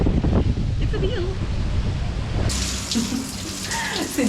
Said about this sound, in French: C'est douche avec vue en plus.